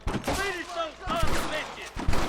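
Gunfire from a Red Dead Redemption Western shootout pops intermittently beneath shouting voices, a few sharp shots mixed into a busy, loud game soundscape.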